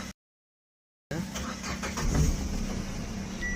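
A Datsun Redi-GO car with a P0313 misfire fault starts up after a brief silence, then settles into a steady, slightly uneven engine hum heard close by, with a faint voice in the background.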